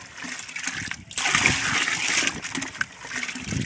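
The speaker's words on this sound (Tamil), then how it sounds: "இப்படி நல்லா தண்ணி ஊற்றி நல்லா கலக்கிட்டு வரணும்." Water is poured and stirred by hand into a neem oil solution of about 10 liters, giving a continuous close splashing and sloshing with brief quiet gaps.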